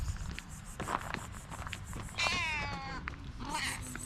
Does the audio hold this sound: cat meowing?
yes